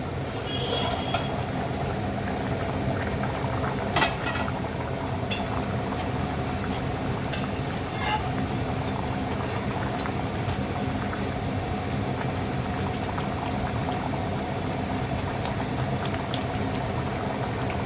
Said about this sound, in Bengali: ঢাকা দিয়ে ফুটতে দেবো।